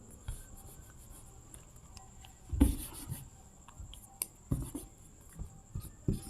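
Chalk or marker scratching on a board during a Class 10 maths lesson, with short intermittent strokes and taps, a louder burst midway, over faint room noise.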